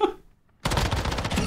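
Gunfire in the mobile shooter Warzone Mobile: after a brief near-silence, a dense, loud, sustained stream of automatic shots breaks in abruptly and keeps going to the end.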